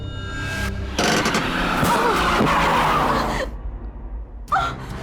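A car brakes hard to a stop: a loud, sustained rush of engine and tire squeal lasting a few seconds, which cuts off abruptly and leaves a quieter rumble behind.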